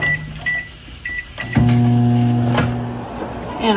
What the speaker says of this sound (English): Put it back in the microwave for another 3 minutes.